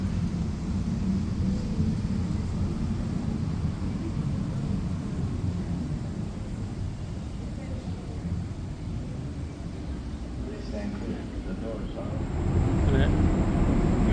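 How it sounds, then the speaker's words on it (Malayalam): A low, steady rumble of an airport metro train running along the track fills the scene, swelling louder near the end as it pulls in. Voices may murmur faintly underneath. "മെട്രോ വരുന്നു."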